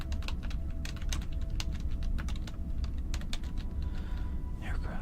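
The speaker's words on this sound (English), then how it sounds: "I was busy unplugging my keyboard so I could type on it" Rapid typing on a computer keyboard, a dense run of close, crisp key clicks that carries on steadily throughout over a low background hum.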